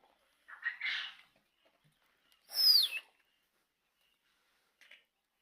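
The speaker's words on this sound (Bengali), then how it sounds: "তো দেখতে পাচ্ছেন এটা হচ্ছে ফাউমি কোয়েল।" Faumi quails in a pen give a few short, bright calls: a rough chirping burst, a louder whistled call with a falling sweep, then a faint brief note after a pause, all alone against silence.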